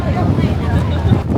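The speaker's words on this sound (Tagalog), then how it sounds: "Grabe yung hangin." Strong wind buffets the microphone in a steady, loud low rumble that persists throughout, with a few brief gusty swells, outdoors at Fansipan, Sa Pa, Vietnam.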